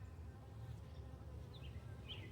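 Honeybees buzz around their hives in a faint, steady hum, joined by a few brief higher passes of individual bees flying close by, with no talking.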